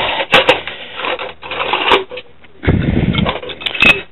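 Metal hand tools clatter and clank in a bucket during a Muddy Fox mountain bike rebuild, loud and close in irregular bursts of rattling with short pauses between.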